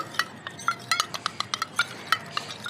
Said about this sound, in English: I am adding 50 ml, almost 4 to 5 tablespoons of coconut oil into this amla juice. I am mixing it well.